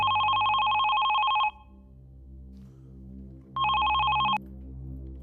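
A telephone rings in a drama scene with two bright electronic trilling bursts separated by a pause of about two seconds, loud and close over soft low background music.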